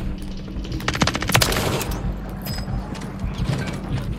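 Rapid bursts of automatic gunfire in the shooter game Warzone, a dense volley of sharp cracks swelling around the middle, then scattered shots over a steady background of game ambience.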